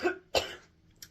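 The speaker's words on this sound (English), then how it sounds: "Sorry, I was trying to hold that cough in." A person coughs while trying to suppress it: two sharp, close bursts in quick succession, then a faint third catch about a second later, with no talking.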